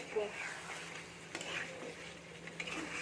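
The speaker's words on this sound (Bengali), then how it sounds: "এই আলুটা দিয়ে আমি ভালো করে এর সাথে কষিয়ে নেবো" Quiet sizzle of chicken and potatoes sautéing in a pan, with occasional soft scraping of a utensil stirring; a low background hum persists.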